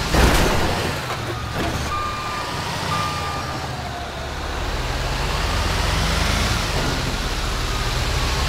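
Repeated electronic reversing beeps from a truck in the GTA V video game ring out over a heavy rumbling engine and road noise, the low drone swelling slightly toward the end, with no talking.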